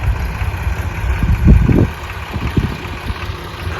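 A tractor engine idles close by in a rural farm setting, a loud, steady low rumble that swells briefly in the middle with a few throbbing pulses before settling back.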